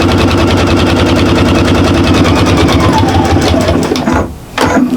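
A sewing machine back stitches a shopper bag, running loud and steady with a rapid mechanical rattle, then stops briefly near the end before a short restart.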